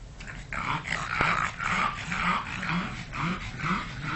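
Two dogs panting rapidly and whimpering indoors in a new house, a loud, continuous rhythm of breathy huffs mixed with soft whines and small growls, close by.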